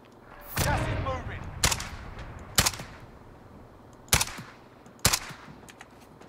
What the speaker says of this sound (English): He's still like just shooting random bullets.